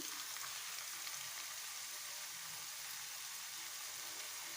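Manchurian balls sizzle in red chili sauce in a pan, a soft, steady frying hiss with faint stirring, low in level and without talk.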